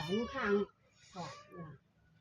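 A cat meows nearby, first one long drawn-out cry, then after a short pause two shorter meows in quick succession, fairly soft against a quiet room.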